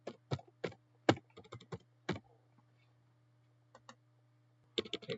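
Quiet keystrokes on a computer keyboard come in short irregular bursts, with a steady low hum underneath and a pause before a final quick flurry of typing.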